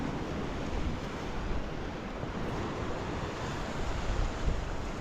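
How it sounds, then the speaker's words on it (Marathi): Sea waves wash continuously beside a stone bastion of Khanderi Fort off the Maharashtra coast, a loud broadband surf roar mixed with wind buffeting the microphone, with no voices. "तेव्हा बुरुज साईडने समुद्र आहे"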